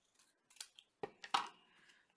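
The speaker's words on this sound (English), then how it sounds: "I'm just going to cut off this tiny bit of overhang that I have" Scissors snip off a small paper overhang on a handmade Hershey Kiss box: a few quiet, close, separate snips and rustles in an otherwise silent room.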